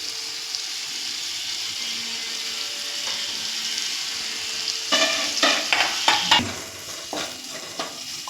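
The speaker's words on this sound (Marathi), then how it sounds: "खोबरं घालून परतून घेतलंय" Ground dry coconut and ginger paste sautéing in a pan, a soft steady sizzle that turns into several loud scraping stirs with the spoon in the second half.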